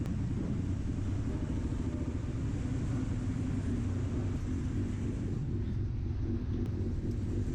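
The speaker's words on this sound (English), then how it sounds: "Bikes always get on first on these ferries typically." Motorcycles rumble steadily on a ferry crossing between Tsawwassen and Vancouver Island, including a KLR650 and sport bikes, a continuous low engine drone that stays loud and close throughout with no talking.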